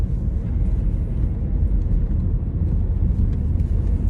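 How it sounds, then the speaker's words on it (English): Steady low traffic rumble from vehicles passing on a road, a continuous near engine drone with no talking over it. "I had to stop speaking there, the officer just patrolling the traffic"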